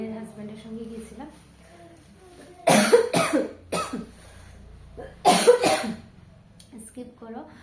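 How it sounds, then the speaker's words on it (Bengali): Several harsh, close coughs in two bursts of two or three, with some throat clearing, from a woman with a cold and a hoarse throat, between stretches of her quiet talking. "কাশিও হয়ে গেছে"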